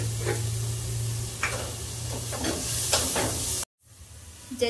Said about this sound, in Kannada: ಈರುಳ್ಳಿ, ಸ್ವಲ್ಪ ಉಪ್ಪು ಹಾಕಿ ಚೆನ್ನಾಗಿ ಫ್ರೈ ಮಾಡ್ಕೊಳ್ಳೋಣ.